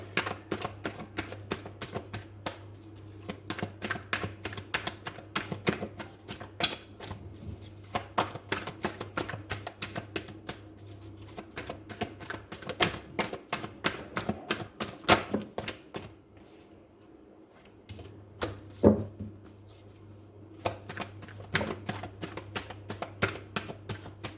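Tarot cards are shuffled by hand up close, producing rapid, crisp riffling and flicking bursts in irregular runs, with brief pauses between handfuls and no speech.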